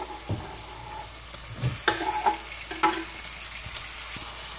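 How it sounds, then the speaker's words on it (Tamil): Tomatoes sautéing in a pan with onions and curry leaves for Chettinad chicken, a steady soft sizzle with a few clinks and scrapes of stirring close by, no talking. "இப்போ தக்காளி போட்டு வதக்க"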